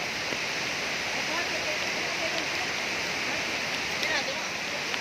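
Strong floodwater from rain rushing past in a steady, loud broadband roar, close and unbroken for the whole stretch with no clear voices.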